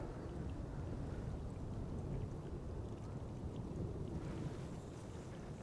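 Wind blows hard and steadily at an airport, a loud, continuous low roar buffeting the microphone with no pauses.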